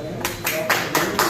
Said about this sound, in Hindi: ताली बजाओ भैया।